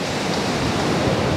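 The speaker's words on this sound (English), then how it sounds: "being at the ocean, just listening to that sound when the beaches are clear and no one is around" Steady broadband wash of ocean surf on a quiet, empty beach in Barbados, constant and fairly loud with no distinct individual wave breaks and no voices.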